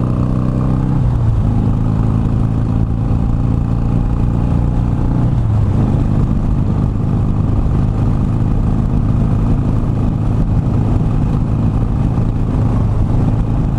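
Harley-Davidson Iron 883 motorcycle pulling away in second gear and riding on, a loud, steady engine drone with shifts in pitch near the start and middle, close and continuous with wind rush and no talking.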